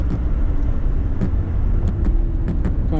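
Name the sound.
Lamborghini Gallardo LP560-4 engine while drifting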